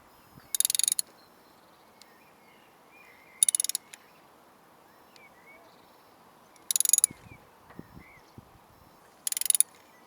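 Four short, sharp clicking bursts evenly spaced apart, like a ratchet turning on a long bar while a spark plug is slowly loosened on a Vauxhall Corsa D 1.4 SXi, set against near silence.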